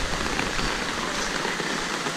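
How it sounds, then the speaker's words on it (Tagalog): Heavy typhoon rain pours steadily and loudly onto surfaces, a dense unbroken hiss with no pauses and no voices. "ito yung ating dinaraanan na talagang dire-diretso yung pagpatak ng buhos ng ulan"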